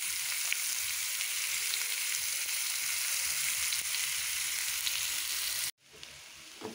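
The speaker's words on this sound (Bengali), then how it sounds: "ওলকপি ভাজা করতে বসিয়ে দিলাম।" Kohlrabi pieces frying in oil in a pan, a steady loud hissing sizzle with faint crackles that continues for about six seconds and then drops off abruptly to near silence.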